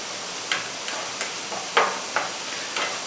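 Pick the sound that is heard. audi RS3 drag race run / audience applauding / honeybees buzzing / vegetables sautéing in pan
vegetables sautéing in pan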